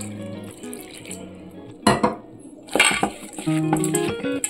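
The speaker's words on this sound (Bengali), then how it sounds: "এইবার আমি চিড়েটাকে খুব ভালো করে ধুয়ে পরিষ্কার করে জল ঝরিয়ে নেব।" Flattened rice (chira) is washed and drained in a kitchen, with short splashes and running water and a light clink of a dish over soft background music.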